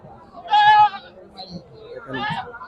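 Goats bleat at a crowded goat market, two wavering calls nearby over a busy background of voices and chatter.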